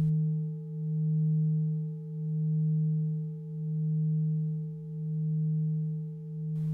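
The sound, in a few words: Tibetan singing bowls ringing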